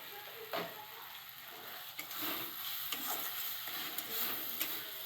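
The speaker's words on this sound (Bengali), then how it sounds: "মশলাটাকে ভালো করে কষাবো" Soft, steady sizzle of masala spice paste sautéing in hot oil for a Bengali ghugni pea curry, with occasional light stirring scrapes and clicks over a constant low hiss.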